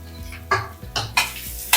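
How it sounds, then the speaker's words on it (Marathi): Chopped onion fries in hot oil for prawn masala, a close sizzle broken by four or five sharp scraping stirs of a spatula against the pan. "तेल तापल्यानंतर कांदा ब्राऊन करून घ्यायचा आहे जोपर्यंत ब्राऊन कलर येत नाही तोपर्यंत त्याच्यामध्ये तेलामध्ये परतून घ्यायचं"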